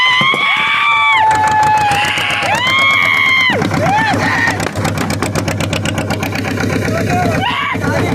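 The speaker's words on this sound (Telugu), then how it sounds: "ఇంజన్ ఇట్లా స్టార్ట్ చేయాలి" A boat engine on a lake trip starts up with rising whines and pitch sweeps, then settles into a loud, steady rhythmic chugging putter close by, with voices faintly mixed in.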